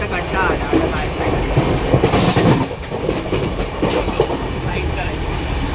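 A passenger train rolls along the rails with a steady, loud rumble and rattling, close by, while voices talk over it throughout.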